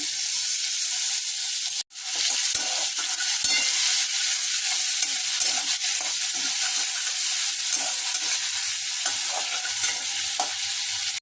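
Ginger paste and dried red chilli paste sauté for chilli chicken in a loud, continuous sizzle, broken by a short drop and faint stirring clicks, close up.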